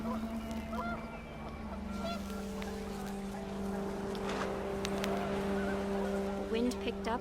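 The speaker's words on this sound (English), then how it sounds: "The wind picked up and panicked geese appeared and quickly went" Panicked geese in the video game What Remains of Edith Finch honk repeatedly over windy ambience, the calls fairly close and mixed under a narrator's voice.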